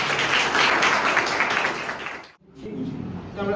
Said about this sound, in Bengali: ওনাদের জন্য একটা জোরে হাততালি।